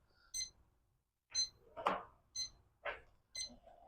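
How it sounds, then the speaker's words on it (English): A faint electronic smoker timer alarm beeps in a steady repeating pattern, about once every half second, beside a drum smoker, with soft rustling and a few quiet thumps. "All right, my alarm's beeping."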